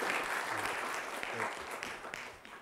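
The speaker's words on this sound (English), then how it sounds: "let us welcome these extraordinarily qualified and committed interfaith voices with a round of applause as Mr. Paul Monteiro comes to address us" An audience at an interfaith symposium panel applauds a speaker's introduction, dense continuous clapping from a roomful of people, steady and fairly loud throughout.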